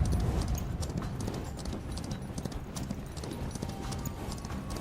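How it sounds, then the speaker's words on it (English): A horse gallops in the western shooter Far Far West, a fast, even clip-clop of hooves running continuously and close, with busy game noise underneath. "Run, little horse, run! Faster!"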